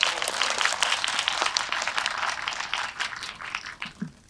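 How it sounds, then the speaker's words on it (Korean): Audience applause during a post-screening guest visit for the Korean film Jangson, a steady wash of clapping from many hands that continues for several seconds at moderate volume with no talk over it. "박수 한번 드릴까요?"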